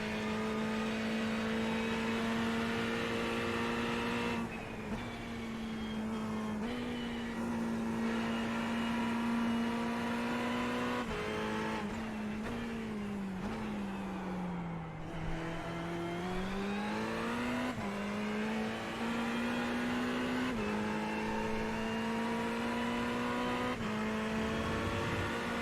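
An onboard race car engine drones loudly and continuously during a sprint race, its pitch dipping and rising through corners and gear changes, with no talking over it.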